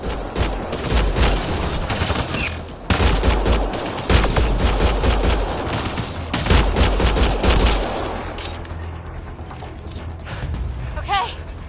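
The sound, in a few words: gunfire in Mass Effect Andromeda video game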